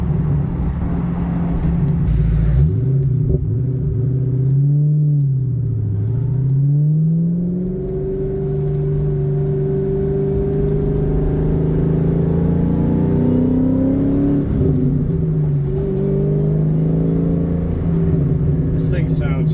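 Supercharged 2004 Mustang Cobra with a 4-valve engine revving on a dyno, a loud continuous engine roar with rising and falling pitch as the revs climb, dip and climb again, close up and steady throughout.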